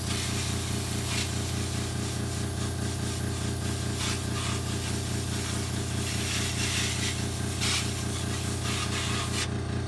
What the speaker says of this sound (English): You want to spray it off first.